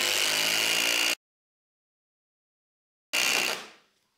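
A Milwaukee 2953 M18 FUEL Gen 4 impact driver runs bolts in two loud, close bursts of buzzing motor noise. The first lasts about a second, and after a silent gap the second cuts off and winds down.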